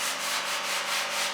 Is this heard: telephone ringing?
no